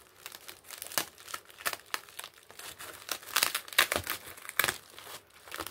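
Packaging paper on a parcel is unwrapped close up, with continuous crinkling and rustling, several sharper crackles and light tearing sounds, no voices.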